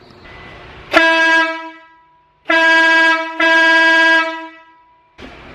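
Aftermarket air-compressor train horn mounted behind the grille of a Toyota Tacoma, three very loud close blasts, one short and two longer in quick succession, with a fourth starting at the end and no talking.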